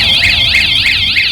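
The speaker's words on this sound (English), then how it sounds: "brings in the second alarm" A car alarm's second-stage warning, set off by a light tap on the bodywork, blares loud and close as a rapid rising-and-falling electronic whoop repeating steadily without pause.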